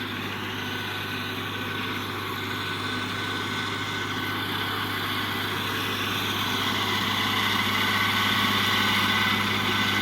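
A Kubota KL 340 tractor engine running at a steady idle-like drone, continuous and fairly close, with a constant low hum and no talk over it.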